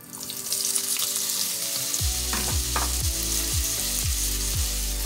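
Celery and carrots sizzle in a hot pan over a medium-low flame for homemade chicken noodle soup. The sizzle is loud and steady, with a rhythmic series of stirring scrapes about every half second.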